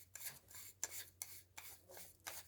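Rough scraping strokes rubbing the blade of a Staedtler pencil sharpener clean over a large bin, about five short rasping passes, close and quiet.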